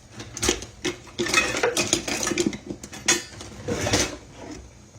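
A spoon scrapes and clatters against a skillet while cornmeal batter is raked out, giving a busy run of close metallic clinks and scrapes in irregular bursts, with no talk.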